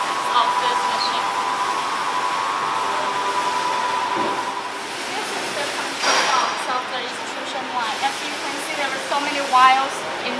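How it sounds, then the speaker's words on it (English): Four-wheel wire straining machine running in a wire and cable factory, giving off a loud, steady mechanical whir and roar that continues unbroken, with slight shifts in tone. "this is the four-wheel straining machine"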